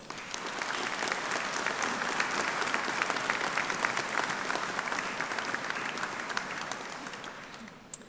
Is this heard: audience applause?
yes